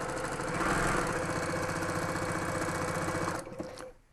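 A sewing machine runs steadily, stitching through quilt fabric strip sets with a fast, even mechanical whir, close and continuous, then slows and stops near the end.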